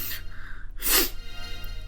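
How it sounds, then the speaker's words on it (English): One sharp, close human sneeze bursts out in the middle, set against a quiet room hum with faint background tones from a video game. "There'll still be me sneezing on the camera."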